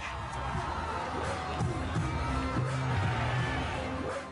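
A large crowd gathers at a PTI election rally in Lahore, Pakistan, keeping up a steady, dense roar of many voices with scattered shouts rising through the din from start to finish.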